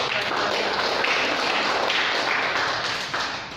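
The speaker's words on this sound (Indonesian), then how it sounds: "Tepuk tangan dulu deh." Church congregation clapping hands together, a dense continuous patter of many palms at steady loudness from start to finish, tailing off slightly at the end.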